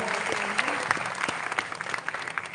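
An audience at a live company event gives a round of applause for Mr. Mohan Rao; dense clapping fills the hall, thinning into scattered louder claps toward the end, with a voice briefly audible at the start.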